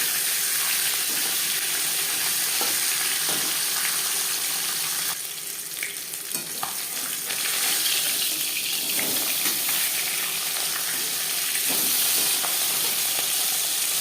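Marinated katla fish pieces fry in hot refined oil with a loud, steady broadband sizzle that runs throughout, swelling briefly midway as pieces settle in the pan, with no talking.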